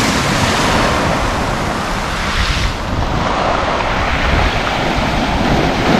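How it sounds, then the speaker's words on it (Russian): Sea surf breaking on the shore near breakwaters at Lazarevskoye on the Black Sea coast in November, a loud steady wash of waves with wind rumble on the microphone throughout. "И вот такое вот наше море."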